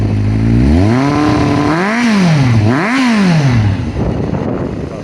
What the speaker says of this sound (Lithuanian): Išmetimas taip pat dirba gražiai, galim truputį pagazuoti.